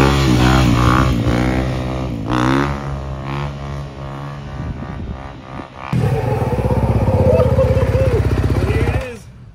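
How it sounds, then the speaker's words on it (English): A brand-new 2024 Honda 250F dirt bike engine revs loudly up close, its pitch swinging up and down, dropping briefly before a second strong burst of revving that holds steady, then cuts off. "Honda 250F"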